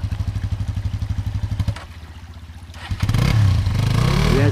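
Motorcycles climbing the Khamar-Daban mountain pass: a near engine pulses in a steady rhythm, eases off briefly, then swells into louder, sustained revving.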